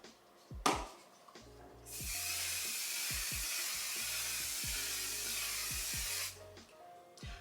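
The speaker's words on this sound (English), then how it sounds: "applying a little bit of One Size On Till Dawn Mattifying Waterproof Setting Spray" A sustained hiss of One Size On Till Dawn mattifying setting spray misted onto a face lasts about four seconds after a few soft taps and rustles, close and fairly quiet, with no talking.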